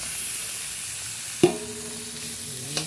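Chopped onions hiss and sizzle steadily in a hot pan while spaghetti sauce is being cooked, a soft continuous frying noise with a sharp clink of a utensil partway through and another faint tap near the end.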